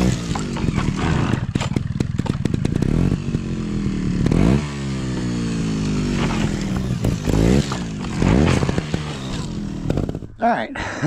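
A 2024 Sherco STR 250 trials motorcycle climbs over an A-frame obstacle in a backyard course, its engine revving hard in loud surges and dropping back between blips, close by.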